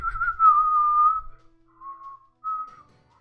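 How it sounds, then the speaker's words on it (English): A short tune whistled by the character Billy in the game Fate/Grand Order: a loud sustained whistled note, then two softer, briefer notes after a pause, alone with no talk. "whistle a little tune"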